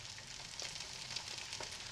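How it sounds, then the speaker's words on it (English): Eggs sizzle and crackle steadily in a frying pan, a constant hiss with small pops, fairly quiet and with no voices. "Looks like a frying pan and some eggs to me."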